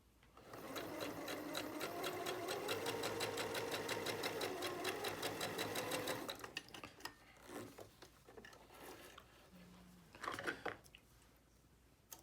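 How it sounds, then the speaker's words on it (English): A sewing machine stitches a straight seam on a cloth face mask, a steady rapid needle rattle running close for about six seconds, then stopping, followed by quieter handling clicks and fabric rustle. "you take this up to your sewing machine, and you don't need to worry about, because those are all going to be internally, and you simply run a straight"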